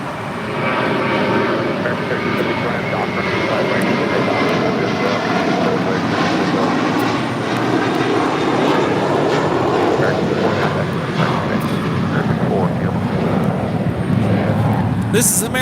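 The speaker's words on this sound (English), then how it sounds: "This is American Airlines Flight 4 taking off to JFK on an A321" An American Airlines A321 jet takes off from LAX, its engines a loud, steady broadband roar that holds for the full stretch, with voices talking faintly underneath.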